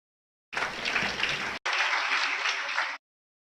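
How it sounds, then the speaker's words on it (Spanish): Warm audience applause for a speaker from Costa Rica's competition commission at a port-sector talk, a dense clapping burst that starts abruptly, dips for an instant, then carries on before cutting off. "para quien pedimos un caluroso aplauso"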